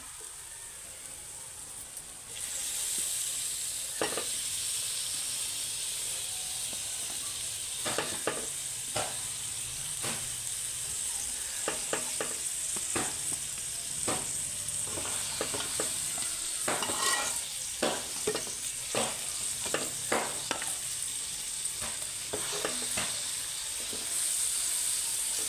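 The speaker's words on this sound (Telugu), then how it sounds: "మనం చేపలు అయితే వదులుకుందాం ఇందులోని." Fish fries in oil with masala for a Godavari-style curry: a steady bright sizzle throughout, broken by repeated clicks and scrapes of stirring against the pan, near and with no talking.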